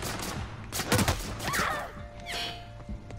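Gunfire in The Outer Worlds video game, a cluster of sharp shots and impacts over a few seconds, mixed with whooshing effects and a steady hum.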